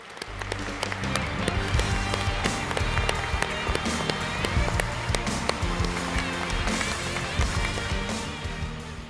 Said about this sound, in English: Please give a warm round of applause for the induction of Dr. Lawrence A. Goulding.